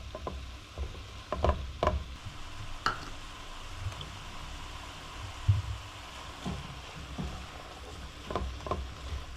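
Lasagna ground meat and onion browning in a skillet, giving a low steady sizzle with occasional stirring scrapes and soft clatters, fairly quiet throughout with no voices.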